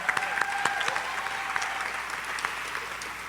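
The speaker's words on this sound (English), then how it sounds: "let's give her a round of applause." Dense, steady applause from an audience at the Young Storytellers Biggest Show 2023, with many overlapping claps forming a continuous crackle that holds at an even level throughout.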